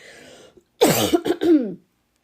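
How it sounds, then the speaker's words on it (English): A few harsh, dry coughs in a quick burst, close and loud, after a brief moment of quiet breathing. "I'm coughing up a storm."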